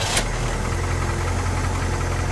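A 1988 Hummer H1 Humvee diesel engine catches and settles into a steady, loud, rumbling idle with a rhythmic knock, close up and without talk.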